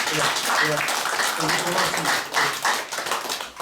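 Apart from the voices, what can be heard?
audience applause after lecture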